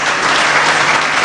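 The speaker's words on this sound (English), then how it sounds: "A huge round of applause." An audience at a festival talk bursts into dense, loud applause, a steady wash of clapping from many hands filling the whole moment.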